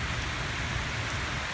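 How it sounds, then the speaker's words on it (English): Steady rain falls outdoors at a metal detecting spot, a dense, even patter and hiss that holds constant throughout with no voices. "Wait for the rain to let up"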